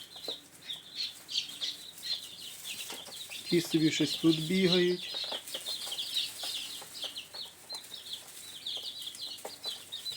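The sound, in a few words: chicks peeping while feeding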